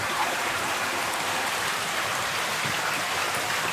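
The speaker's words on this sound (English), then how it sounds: "I have another pump to supply this structure. So the water will come down here." Pumped water pouring into an aquaponics structure, a continuous close splashing trickle like a small stream, steady and even throughout.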